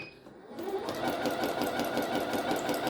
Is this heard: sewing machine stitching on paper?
yes